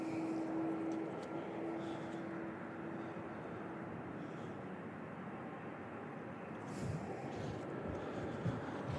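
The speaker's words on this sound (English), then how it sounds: "this is UPS Flight 2908 headed to Ontario," UPS cargo airplane on Flight 2908 to Ontario, California, at Louisville International Airport, a steady broad engine roar at moderate distance holding level throughout with a faint tonal whine early on.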